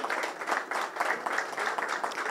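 A crowd applauds at a partnership signing ceremony between Sghartoon and Topnet, with clapping rising and falling in waves of bursts throughout.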